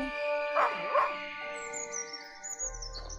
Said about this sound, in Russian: О, здесь есть собака. Она лает на странную световую луковицу.